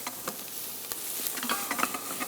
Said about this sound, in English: so make sure you stir. Still using moderate heat right now, medium to medium high